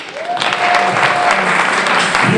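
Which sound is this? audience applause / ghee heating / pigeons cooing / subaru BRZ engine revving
audience applause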